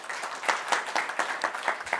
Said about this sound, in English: Round of applause, Mark.